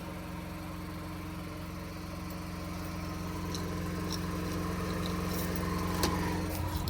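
A standby generator hums and drones steadily during a simulated power outage test, a loud continuous engine tone that grows slightly louder partway through, with faint ticks and clicks and no speech.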